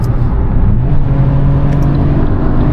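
A 2023 Fiat 500 cruises at motorway speed around 70 mph as the driver shifts into third gear, giving a loud, steady interior roar of engine and road noise with no distinct break; no one talks.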